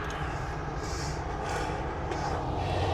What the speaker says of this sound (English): it's a CN train going by right now